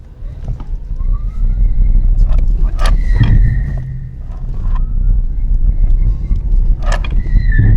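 A car engine idles with a steady low rumble during a battery internal resistance test, heard close up with wind buffeting the microphone and a few brief clicks and tones over the top.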